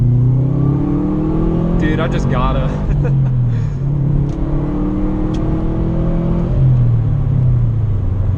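A 2013 Subaru WRX with its stock exhaust runs and revs steadily in the background, its engine note rising and falling under a man's close, loud talk.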